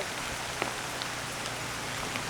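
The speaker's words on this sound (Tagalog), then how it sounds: "Nga lang, naulan nga." Steady rain falls at a forest campsite, a dense even hiss with occasional louder drips, continuous and close.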